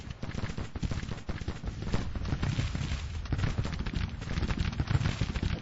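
Dense, continuous musket volleys and cannon fire rumble through a Grand Tactician Civil War battle, a steady roar of crackling gunfire with heavy low booms throughout and no voices.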